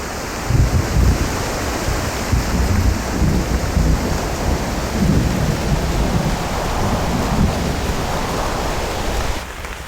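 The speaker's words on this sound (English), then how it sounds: "The weather's warmer and southern fronts no longer threaten snow, just heavy rain." Heavy rain pours steadily in an Australian southern storm, with a dense broadband roar and low thunder rumbles underneath, loud and continuous with no voices.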